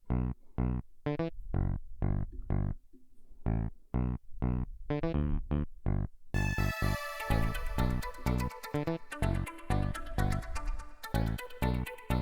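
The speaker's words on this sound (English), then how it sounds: "This one, which is a kawaii emulation" A synth preset emulating a Kawai instrument plays a bouncy, chopped riff of short bright notes over a steady beat, then a dense shimmering layer swells in halfway through, loud and close with no voices.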